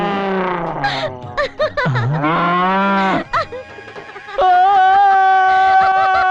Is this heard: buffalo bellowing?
yes